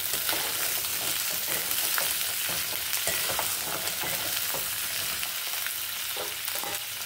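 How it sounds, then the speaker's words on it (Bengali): Hog plums (amra) being stirred in a hot pan with fried whole spices for a sweet-sour pickle, a steady close sizzle with repeated scraping and clinking of the stirring spoon throughout, no voices. "এবার আমড়াগুলো একটু নেড়ে চেড়ে নেব।"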